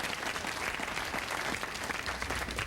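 A studio audience on a 1997 daytime talk show claps in a dense, sustained burst of applause, even and fairly loud from start to finish.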